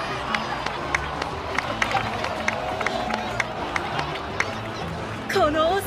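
A large crowd cheers loudly in the video game Genshin Impact, with scattered clapping and a steady roar of voices, sharp bursts popping through, ending with a rising whistle-like tone.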